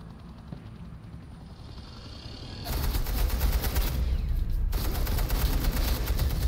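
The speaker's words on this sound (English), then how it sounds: "Suppressing fire." Suppressing gunfire erupts in Batman: The Enemy Within, a dense, continuous burst of automatic weapons fire starting midway after quieter ambience, loud and rattling with a brief dip before resuming.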